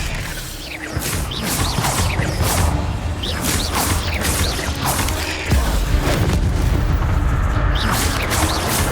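A spell is cast in the Hogwarts Legacy video game, a dense burst of magical whooshes, booms and crackling impacts layered over continuous game effects and music, loud and close, with no talking.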